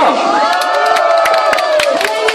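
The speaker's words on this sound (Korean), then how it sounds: "박수 부탁드리겠습니다" A crowd at a political rally in Korea cheering and shouting loudly, with whoops and scattered claps throughout, close and dense.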